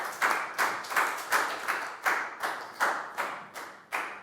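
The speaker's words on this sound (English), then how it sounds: "High five and a big round of applause for Net," A class of primary school children claps together in a steady rhythm for a student during a Year 4 maths lesson, about ten evenly spaced loud claps with no talking.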